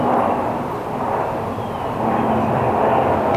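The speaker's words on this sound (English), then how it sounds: "Outdoor recording, you get planes." Airplane passing overhead outdoors, a steady broad rumbling drone that holds at a moderate level, swelling slightly toward the end, with no talking.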